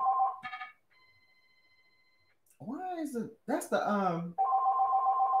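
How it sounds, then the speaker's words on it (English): A phone rings in a home, a steady electronic ring tone at the start, then a quiet gap, a burst of talking, and the ringing resumes loud and clear at the end. "I can't believe my phone is ringing."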